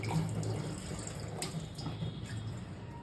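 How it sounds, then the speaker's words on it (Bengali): A green coconut is washed under a running tap indoors, giving a steady close water splash and trickle throughout with no talking. "তো ডাবটা আগে ধুয়ে নিই।"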